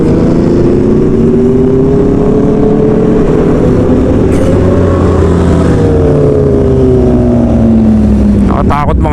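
Aprilia RSV4 1100 Factory and other motorcycle engines rev and drone loudly at a car meet near Ayala Malls on Manila Bay, rising and falling in pitch throughout, with a sharp burst of revving near the end.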